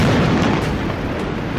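A bomb blast sound effect: a dense, continuous boom with a heavy low rumble and broad crackle, loud and sustained throughout without any talking.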